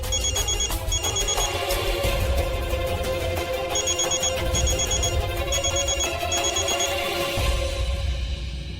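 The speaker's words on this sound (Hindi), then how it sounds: "बार बार फोन आ रहा है" A telephone rings over and over in a busy domestic drama scene, its bursts of bell-like trills repeating under a steady music bed, with no one speaking.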